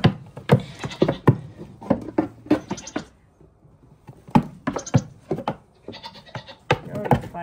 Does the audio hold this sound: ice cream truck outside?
no